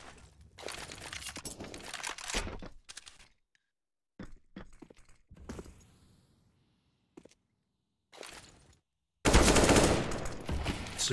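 Counter-Strike rifle fire on the Cache map during a pro match, with sharp bursts and rapid automatic volleys separated by short silences, ending in a loud sustained burst.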